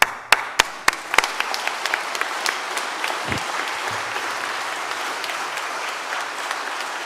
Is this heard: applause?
yes